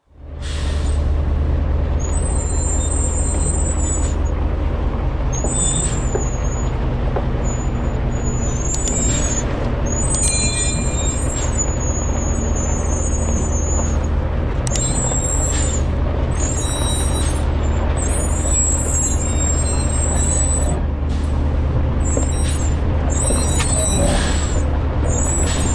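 Heavy truck engine rumbling steadily as it crawls along a desert 4x4 track, with brief high hissing air-brake releases and squeals repeating throughout, loud and close.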